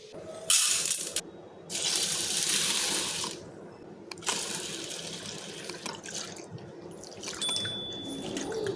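Running water splashes into a bowl in bursts as basmati rice and lentils are rinsed, with swishing, dripping and a faint clink between pours.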